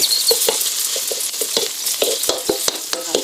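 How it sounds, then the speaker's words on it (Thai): Northern Thai curry paste stir-fries with pork belly in a wok, no oil added. A loud, close sizzle runs throughout with quick, repeated spatula scrapes and taps. "ผัดพริกแกงให้หอมนะคะ"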